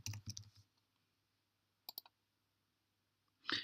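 Crisp computer mouse clicks close up in a quiet room, a quick cluster at the start, a double click midway and another burst at the end.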